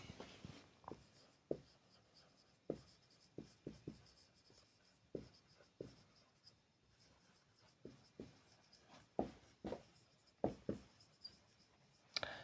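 Chalk or marker writing an example sentence on a classroom board, heard as a string of short, crisp taps and scratchy strokes in irregular bursts, fairly close and clear, with no voices over it.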